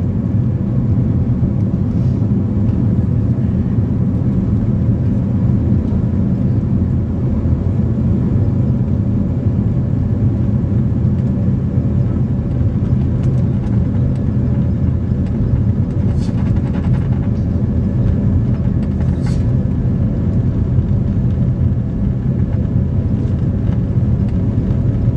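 An airliner starts its takeoff roll at Cairo airport, heard from inside the cabin as a steady, loud low engine roar that holds throughout with little change, with faint brief sounds over it.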